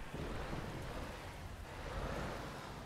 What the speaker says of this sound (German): Oh Gott, das donnert auch noch.